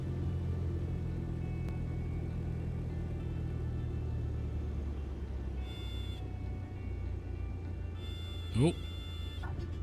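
Cessna 152 engine in a flight simulator, a steady low drone that stays even and fairly loud throughout, with a few brief higher tones and a short rising whine near the end.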